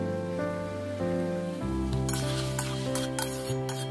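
Tomatoes fry with salt and turmeric in a pan for a pickle, a spoon stirring and scraping in short bursts over a soft sizzle, while a sustained musical tone plays in the background and no one speaks.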